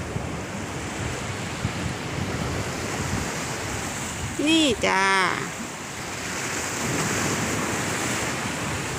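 Ocean waves wash onto a beach in a constant roar of surf, swelling toward the end, with a person briefly speaking over it midway.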